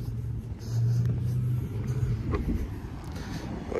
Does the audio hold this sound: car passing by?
yes